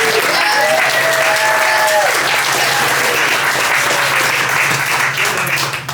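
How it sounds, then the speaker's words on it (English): Audience applause at a poetry reading swells into a loud, sustained wash of clapping from a crowd. "can I get a round of applause?"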